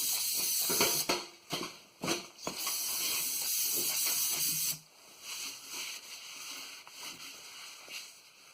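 Aerosol brake cleaner sprayed onto a rusted 2008 Ford F-150 truck frame under repair, a loud, close hiss in several short bursts and then a long steady blast that cuts off, followed by quiet.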